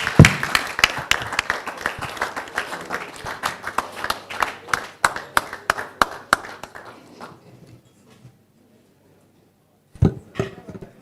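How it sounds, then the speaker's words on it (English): Audience applause at a media company showcase event as a speaker walks on stage, steady clapping from a room of people that thins out and stops, followed by a brief few claps after a pause. "Please a round of applause for him till he gets on stage."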